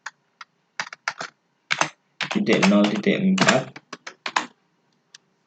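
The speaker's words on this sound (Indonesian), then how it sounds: "Lalu ketik perintah mount" Someone types a command on a computer keyboard, with scattered single keystrokes followed by a denser flurry of clacking taps, close and distinct, while a voice speaks over part of it.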